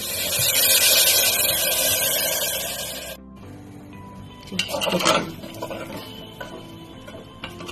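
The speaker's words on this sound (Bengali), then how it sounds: "এবার আমি জল দিয়ে দিচ্ছি।" Water pours into a pot of vegetarian potato curry cooking without turmeric, a bright hissing rush that stops abruptly, followed by softer sloshing, clinking and stirring in the pot.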